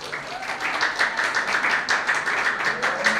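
An audience applauds at a competition results announcement, steady mid-level clapping filling the whole short stretch with no voices over it.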